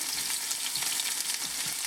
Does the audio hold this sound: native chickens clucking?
no